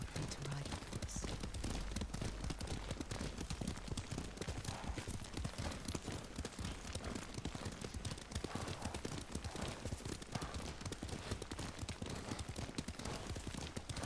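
Horse hooves pounding while riding in Ghost of Tsushima, a fast dense gallop of thuds filling the whole stretch, loud and continuous with faint rustle beneath.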